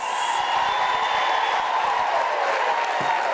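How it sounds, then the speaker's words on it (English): A graduation audience at a UNISA autumn ceremony applauds steadily, a dense, even patter of many hands clapping from a large crowd, with no breaks throughout. "May you give yourself a round of applause"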